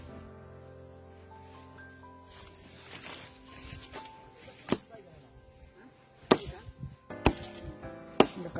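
Dry firewood being chopped outdoors on a hillside, with several sharp, loud blows landing irregularly over a low murmur of voices, the strikes clustering near the end.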